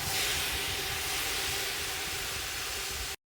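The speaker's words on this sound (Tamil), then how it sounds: "இப்போ நான் தக்காளி ஆட் பண்ணிக்கிறேன்" Tomatoes sautéing in a pan for a country chicken biryani made with jeera samba rice give a loud, steady, close hiss of sizzling that runs unbroken for about three seconds before cutting off abruptly.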